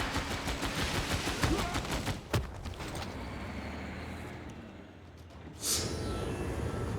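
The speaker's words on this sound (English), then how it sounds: "I can take my rocket artillery and I can move them up and start hitting the other nearby cities" Rocket artillery bombarding cities in Civilization VI, a rapid rattling barrage of launches followed by a sharp blast, a quieter lull, then another whooshing strike, loud and close with no talk.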